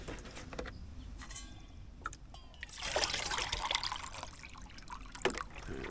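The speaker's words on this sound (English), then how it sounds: "Make sure you pour the water here." Water poured from a bottle into a small camping pot on a backpacking stove setup in Canyonlands: soft, uneven trickling and splashing in short bursts, fairly quiet and close, with no talking.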